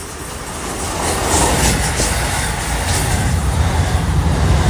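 A Long Island Rail Road commuter train from Port Jefferson rolls into Queens Village station, a loud, close rumble of wheels and motors that swells and holds steady.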